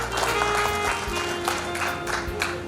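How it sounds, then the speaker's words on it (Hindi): An audience at a forestry research institute alumni meet in Dehradun claps in a steady, moderate wash of many hands, continuing evenly throughout with a low hum underneath. "सर सामने तालियां बजाकर स्वागत कीजिए।"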